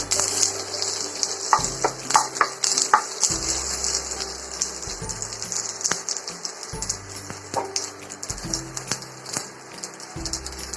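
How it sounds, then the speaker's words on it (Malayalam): Curry leaves crackle and sizzle in hot oil with mustard seeds, a steady frying hiss punctuated by sharp pops and spatters, close and moderately loud, with no voices. "കറിവേപ്പില ഇട്ട്"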